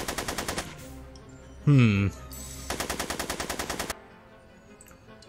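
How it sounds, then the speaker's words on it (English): Rapid machine-gun fire in the video game Back to the Future: The Game, set in a speakeasy shootout: two bursts of evenly spaced shots, each lasting about a second and a half, with a short vocal sound between them. "Are you shooting at me?"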